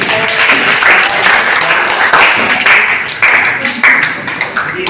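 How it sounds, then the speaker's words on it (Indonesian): Applause for a student group in a classroom coaching session, a dense patter of many hands clapping steadily for several seconds with small swells, while voices carry on underneath. "Aplaus juga."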